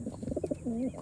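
Pigeons cooing at close range, a quick burst of low throaty pulses followed by a single drawn-out rolling coo, alone.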